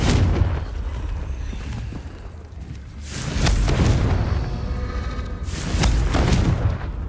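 Fire spell explosions from the game Hogwarts Legacy, three heavy booming blasts spaced a few seconds apart, each with a broad crackling burst that rolls off into a low rumble.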